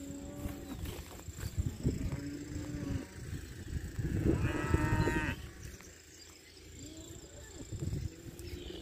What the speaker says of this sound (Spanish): Empezaron a ver movimiento las vacas, empezaron a venir ahora.